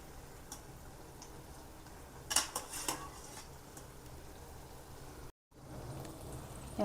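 Boiled peas being stirred into oily gravy in a pan while making matar paneer: a short cluster of soft spoon-and-pan scrapes and clinks midway, with quiet kitchen background before and after.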